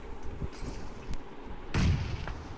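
A grenade detonates in a PUBG Mobile match, a loud, sharp blast partway through, preceded by smaller thumps of gunfire in a busy game mix.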